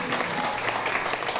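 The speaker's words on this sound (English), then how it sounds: "Give yourselves a big round of applause for supporting live," A short, steady burst of audience clapping at a live local improv comedy show, many hands together at even loudness throughout.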